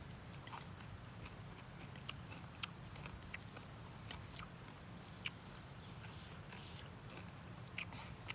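Crunchy bites of sour taro stalk salad chewed close to the microphone, with sharp, scattered crisp cracks over a low, steady background, quiet and without talk.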